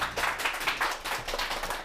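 Studio audience applauding to welcome a lecturer onto a lecture-show stage, a steady dense wash of clapping hands throughout, fairly close and even with no voices over it.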